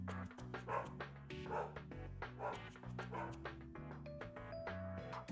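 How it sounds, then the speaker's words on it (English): A pet dog barks and yips repeatedly in the background, faint and distant beneath steady electronic game music. "My dog's having a blast"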